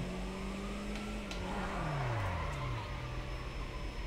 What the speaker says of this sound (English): now let's drift with the cops on us